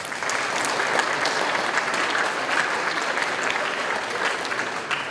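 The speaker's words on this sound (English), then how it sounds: "let's give these parents one more round of applause" Steady, dense applause from a crowd of students for parents at a school top scholars ceremony, loud and sustained throughout without letting up.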